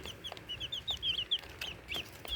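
Native chickens cluck nearby in a quick series of short, bright calls, with soft rustling and shuffling underneath.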